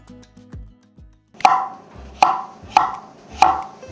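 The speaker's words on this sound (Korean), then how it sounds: "저는 레몬 3개 정도는 얇게 슬라이스해서 냉동해 놓는데요." A knife slices lemons thinly on a board in four crisp, evenly spaced cuts, each a sharp close knock, after a few softer thumps at the start.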